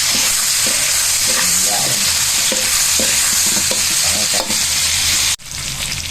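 Meat sautés for humba in a loud, dense sizzle with repeated stirring scrapes close up; a brief word is spoken, and the frying cuts out sharply near the end before resuming more softly.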